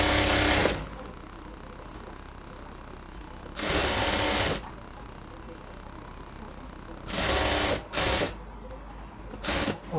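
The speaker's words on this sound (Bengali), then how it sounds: "আমি এই ইলাস্টিকটাকে ফোল্ডিং করে আস্তে আস্তে ইলাস্টিকের পাশ দিয়ে সেলাই করতেছি" A sewing machine runs in several short bursts while stitching alongside folded elastic on ladies' pants, the motor whirring loudly up close with pauses between runs.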